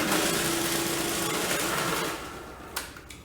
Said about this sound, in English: You don't even have to clean out the food processor in between potatoes and grating cheese.